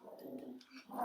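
A dog growls low and rumbling at moderate volume for about a second indoors, ending in a louder rise.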